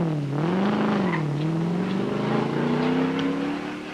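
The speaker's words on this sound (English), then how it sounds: "the car is sent back onto the track" A Ford Falcon GT race car accelerating back onto the track after a pit stop, its engine note climbing steadily through the gears, loud and close, then easing at the end.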